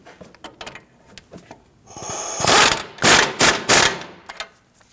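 A ratchet tightens down the front strut and spring assembly on a 2010-2019 Ford Taurus, with sparse clicks followed by a cluster of louder, rasping ratchet strokes close by, and no talking.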